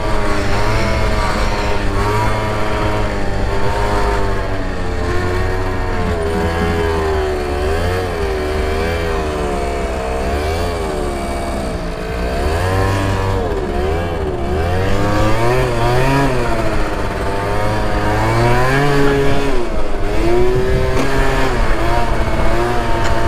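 A motorcycle accelerates while riding through traffic, the engine note rising and falling in continuous sweeping harmonic pitch changes, loud and close for the whole stretch with no talk over it.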